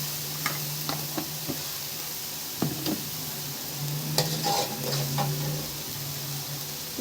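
Garlic paste frying in hot oil in a pan over high heat, with a steady close sizzle and scattered scrapes and taps as it is stirred, no talking.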